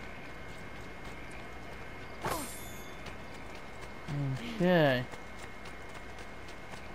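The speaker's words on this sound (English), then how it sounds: "Ah, here's a horse." A horse clip-clops in Assassin's Creed II, Ezio Collection on PS4: a short burst of hoofbeats sounds midway, then a louder run of hooves with a whinny near the end, faint against quiet background, with a brief word spoken.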